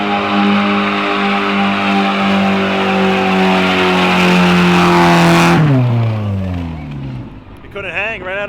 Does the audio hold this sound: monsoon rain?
no